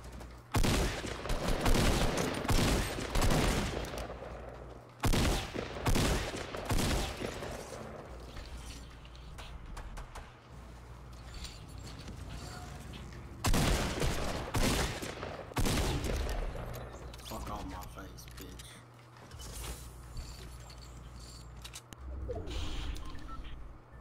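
Loud volleys of rapid gunfire crackle in a Fortnite match, with clustered bursts near the start, around five seconds and again in the middle, then quieter scattered shots, all without talking.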